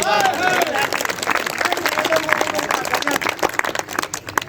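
An audience at a devotional presentation about Lord Rama claps together in a short burst, with voices and crowd noise mixed in over the clapping.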